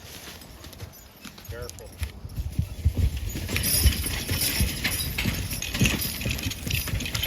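Belgian heavy draft horses hauling big logs up a steep hill, their hooves thudding and clopping on the ground in an uneven, building rhythm, with equipment noise behind and a person speaking briefly.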